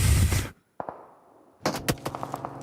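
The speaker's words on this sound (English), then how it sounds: "Just gunshots into sirens." PUBG Mobile gunfire during a Miramar match at a global championship event: a loud burst of shots, a brief lull with a couple of isolated cracks, then a rapid rattle of repeated shots at close range.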